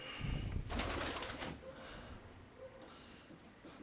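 A burst of flapping wings at the start, followed by soft cooing of pigeons nearby in a quiet outdoor setting.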